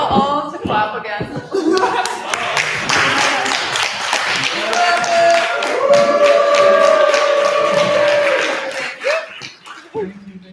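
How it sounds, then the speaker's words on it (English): An audience at a creator meetup bursts into sustained clapping mixed with laughter and cheers, loud and close for most of the stretch, with voices chattering over it before it fades near the end. "Hey, can I get you all to clap again?"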